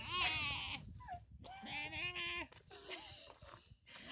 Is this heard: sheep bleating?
yes